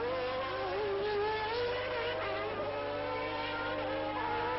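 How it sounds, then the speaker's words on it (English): A 1990 Formula 1 car on a flying qualifying lap at the British Grand Prix at Silverstone, its high-revving engine whining steadily with shifting pitch, heard at a distance and fairly faint. "And really flying now, Ayrton Senna"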